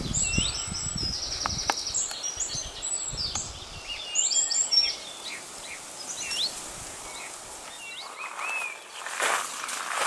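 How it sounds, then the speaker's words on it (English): Songbirds in a woodland garden beside a road, with many bright chirps and trills from several birds at moderate distance, over soft rustling and a few footsteps. "of course you hear all the bird song now"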